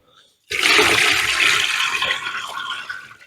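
Liquid brine with stirred-up sediment for smoking pork neck is poured into a container, a sudden loud, close rushing gush that starts after a brief pause and then gradually eases off, with no talk over it.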